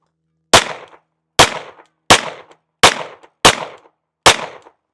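Six loud, sharp pistol shots from a SIG P320 M17 handgun fired one-handed, evenly spaced about a second apart, each with a short ringing decay and silence between.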